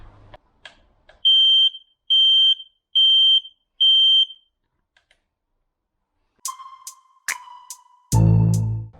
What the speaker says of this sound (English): we've also installed this carbon monoxide level sensor with alarm